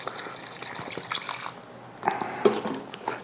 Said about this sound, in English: We're gonna add some water as well for probably about a ½ inch.